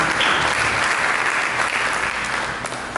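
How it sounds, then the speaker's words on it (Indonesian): A church congregation applauding, a loud, dense wash of clapping that holds steady for about three seconds and fades slightly at the end. "Mari kita berikan tepuk tangan bagi Yesus."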